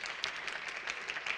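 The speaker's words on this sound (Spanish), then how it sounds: "Le vamos a dar un aplauso" Audience applause at a corporate sustainability panel in Chile, steady broadband clapping from a crowd sustained evenly throughout with a few sharper claps standing out.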